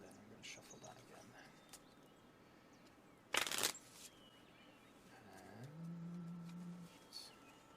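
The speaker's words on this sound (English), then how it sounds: "And then I'm going to shuffle that again." Playing cards shuffled at a tabletop roleplay game session: a loud, brief riffle burst stands out from quiet background, followed by softer handling sounds and a low hum.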